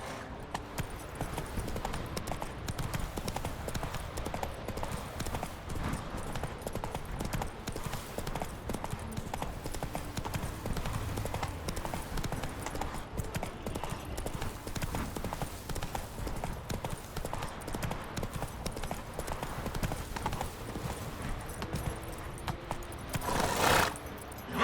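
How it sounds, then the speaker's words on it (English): Horse hooves clip-clopping at a steady gallop in The Witcher 3 video game, a continuous drumming gait with a faint jingle of tack, busy game ambience beneath, and a short burst near the end. "Not so fast, Roach."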